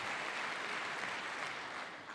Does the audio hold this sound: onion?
no